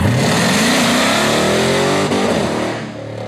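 A 1968 Dodge Charger fitted with a 707 hp Hellcat engine revs hard and launches, its loud, close engine note climbing steadily through the rev range before easing off near the end.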